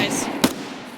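Two sharp grenade blasts in Escape From Tarkov, about half a second apart, each a short broadband burst standing out over a steady background of game noise.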